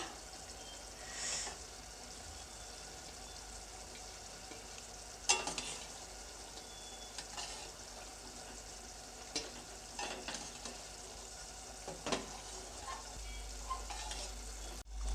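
Masala spices frying in a pan on a stove for pasta, a quiet steady sizzle with occasional scraping strokes of a spoon stirring, close and faint.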